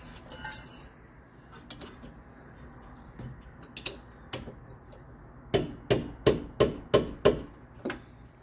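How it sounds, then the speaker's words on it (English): Brake caliper bolts on a 2015 Toyota RAV4 being tightened during a rear brake job, heard as scattered sharp metallic ratchet clicks that gather into a quick run of six or seven clicks near the end, close and alone. "Bolts are started. Let's tighten them down."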